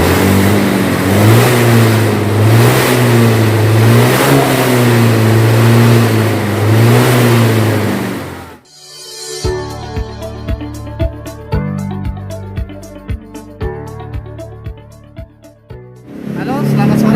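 A Honda Beat scooter engine revs hard and loud for about eight seconds with a steady, buzzing drone, then cuts off abruptly as music takes over.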